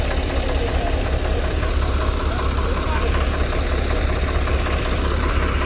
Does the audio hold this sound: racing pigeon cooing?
no